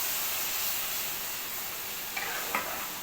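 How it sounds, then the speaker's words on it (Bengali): Washing water is poured slowly into a pan of frying spices and chillies, and a steady loud sizzle and hiss follow, with a couple of brief stirring scrapes near the end. "এই ধোয়া জলটাকে আমি আস্তে করে দিয়ে দেব"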